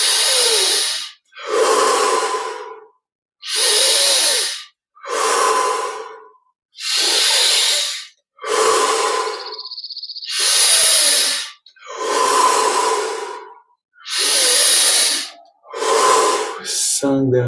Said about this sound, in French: Et on continue avec 10 respirations encore, en prenant un peu plus d'air à chaque fois